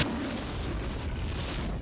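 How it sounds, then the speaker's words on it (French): A loud, dense explosive rumble in the video game Baldur's Gate: Throne of Bhaal, filling the whole moment, broadband and sustained as if from a blast close by. "Ces espèces d'explosions vont toujours me surprendre"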